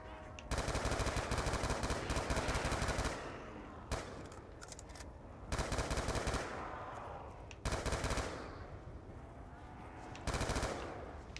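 Ray gun blasting zombies on the Nuketown map in Black Ops 2 Zombies, loud sustained bursts of rapid firing in four long runs with brief gaps between them.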